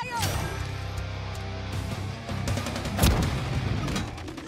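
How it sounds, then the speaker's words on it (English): Gunfire in Rainbow Six Siege, a few sharp shots with one loud burst near the middle over a steady game soundtrack, while a player talks throughout. "I shot that guy"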